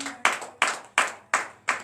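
Slow, rhythmic clapping at a morning prayer service, five sharp evenly spaced claps about a third of a second apart, close and distinct with short decays.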